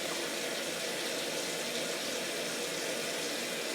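Water pours steadily from a tap into a cooking pot as cups are measured for corned beef and cabbage, a dense, continuous rushing flow heard up close and alone.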